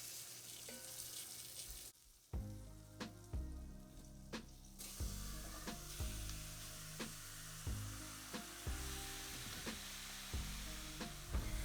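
Steady loud sizzling of chicken frying in a hot pan, with rhythmic scraping and stirring knocks throughout; no voices.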